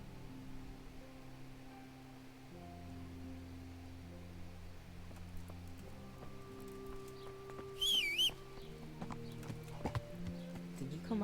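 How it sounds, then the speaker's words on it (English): Horse hooves clip-clop steadily in the video game Kingdom Come Deliverance, with a brief whinny partway through, all set over a bed of sustained game music. "Did you come out of there, Horsey?"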